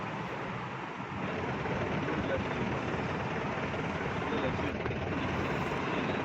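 A jeep driving over a rough road, its engine and road rumble a loud, steady broadband roar with jolting rattles throughout, close and continuous for the whole stretch.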